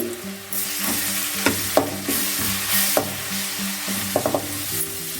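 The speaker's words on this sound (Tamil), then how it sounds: "வெங்காயம் வதங்கினதும் இஞ்சி பூண்டு பேஸ்ட்டு" Ginger garlic paste sautéing with onions in a pan for spicy garlic chicken, a steady close sizzle with repeated scraping stirs and light clinks of a spoon against the pan, no voices.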